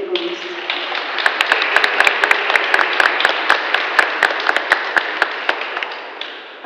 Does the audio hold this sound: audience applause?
yes